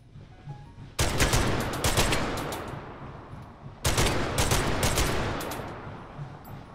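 Two long, loud bursts of rapid automatic gunfire in the VR shooting game Hot Dogs, Horseshoes & Hand Grenades, each a dense rattling volley lasting a few seconds, close and alone with no talk.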